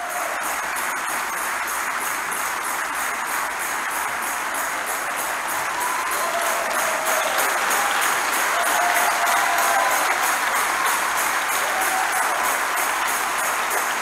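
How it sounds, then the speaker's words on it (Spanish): Church congregation applauding after a healing prayer, a steady dense roar of clapping and crowd noise that swells slightly midway, with faint ringing tones threaded through. "Denle el aplauso fuerte al Señor."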